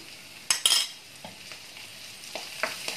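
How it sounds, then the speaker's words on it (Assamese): Garlic and ginger paste frying for a brinjal curry, a quiet sizzle broken by a sharp metallic spoon clink and a few brief scraping stirs against the pan. "এইখিনিও কেঁচা গোন্ধটো নোহোৱালৈকে মই ফ্ৰাই কৰি থাকিম।"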